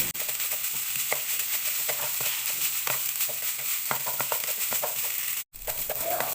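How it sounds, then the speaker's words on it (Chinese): Continuous sizzling with frequent scraping and tapping of a spatula as seaweed fried rice, seasoned with salt and light soy sauce, is stirred in a hot pan, close and steady, briefly cutting out near the end. "用铲子给它搅拌均匀"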